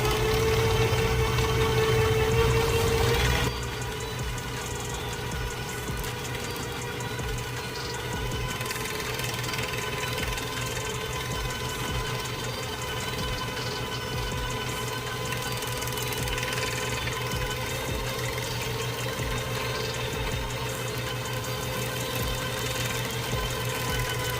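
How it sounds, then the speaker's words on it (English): 60 lb braided line spooling onto an LX Raptor casting reel produces a steady, continuous mechanical whir with a faint ratcheting hum. It opens with a brief louder burst, then holds even and close for the rest, with no voices. "we're going to go ahead and get it spooled up to line capacity."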